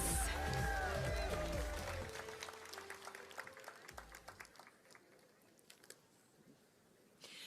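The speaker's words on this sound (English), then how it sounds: "Let's give another round of applause to our incredible speakers" Convention audience applause for speakers at a doTERRA event opens loud over a voice and music, then thins into scattered individual claps that fade, with a last burst at the end.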